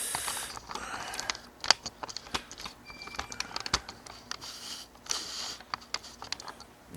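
A ratchet clicks in quick, uneven bursts while turning a nut on the axle of a 2003 Ford Expedition 5.4L Triton, faint and close in a quiet workspace.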